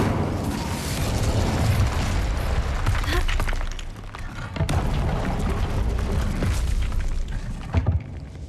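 An Incendio fire spell is cast repeatedly in Hogwarts Legacy, giving a series of loud, close, booming fiery bursts with a sharp crack partway through, layered over busy game effects.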